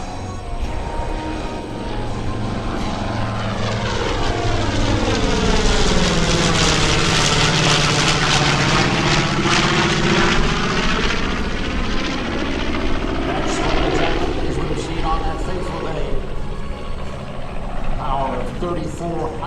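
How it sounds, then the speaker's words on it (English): The B-25 Mitchell bomber Panchito sweeps past at the 2015 New York Airshow, radial engines rising and falling in a loud pulsing drone with a clear pitch sweep as it passes, under an announcer's voice. "The B-25 Mitchell bomber Panchito, ladies and gentlemen, from the left."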